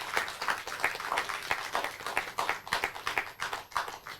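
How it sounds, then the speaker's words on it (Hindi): Modest clapping from a small audience at a Hindi poetry gathering for Holi and Women's Day, individual claps audible in an uneven patter, fairly faint and without speech. "इनके सम्मान में भी जोरदार तालियां हो जाए।"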